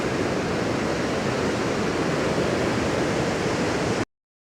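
Loud, steady rush of the Beas river in flood after heavy damage near Kullu-Manali, a dense broadband roar of churning water heard up close and alone, with no talk, until it cuts off abruptly.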